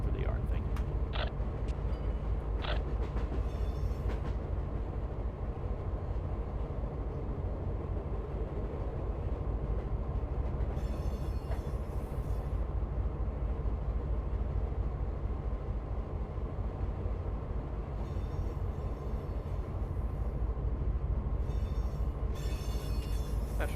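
Amtrak 172 passenger train rolling toward Los Angeles Union Station in the Run 8 rail simulator, a steady low rumble of wheels and engine with occasional creaks and brief high squeals, continuous and fairly loud throughout.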